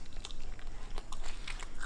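Someone bites into crunchy Matahari durian flesh, close up, making a quick series of crisp crunches and chewing sounds across a couple of seconds.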